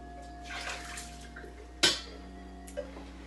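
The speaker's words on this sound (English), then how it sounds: "pour some boiling water into there, close the lid and just give it a little swirl round." Boiling water swirled inside a lidded teapot to warm it makes a soft slosh, followed by a sharp clink of the lid and a smaller knock of china, quiet and close.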